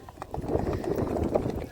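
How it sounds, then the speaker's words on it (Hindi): Horses wait before a small Rewal horse race, and their hooves clip-clop faintly and unevenly on the ground while people talk nearby. "ये है इमरान भाई नोड़े चांद घोड़े के साथ, अयूब भाई।"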